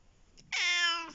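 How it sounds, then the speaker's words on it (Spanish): A rescued street cat gives a single clear, drawn-out meow close by, rising then falling, after a brief quiet moment and with no talking. "Tengo dos gatos."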